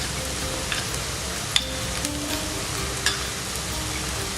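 Onions with ginger garlic paste sautéing in a pan for Mumbai street style pav bhaji, a soft, even sizzle running throughout with a few faint clicks of stirring, steady and moderately close, with no talk.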